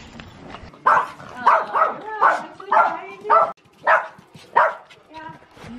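A dog barks close by, about eight sharp, loud barks in a quick, uneven series with brief pauses between them.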